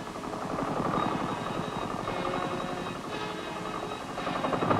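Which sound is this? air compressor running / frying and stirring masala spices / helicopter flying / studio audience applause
helicopter flying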